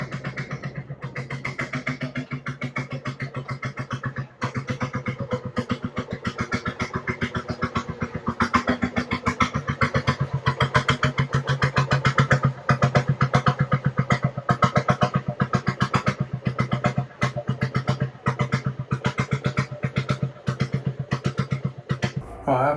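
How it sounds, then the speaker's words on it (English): A narrowboat engine chugs steadily and fast as the boat passes close by, a rough-sounding continuous thumping that stays loud throughout, with no talking. "you can hear this amazing engine going past. Or it's actually a boat with an engine in it"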